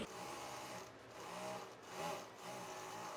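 A sewing machine stitches fabric with a continuous, fairly faint mechanical whir that swells and eases slightly in pace, with no talking over it.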